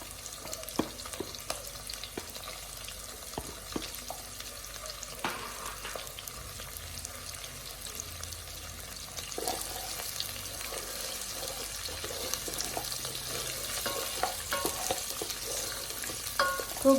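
Beef stir-frying in a pan gives a continuous sizzle that swells toward the end, broken by frequent scraping and clicking stirs.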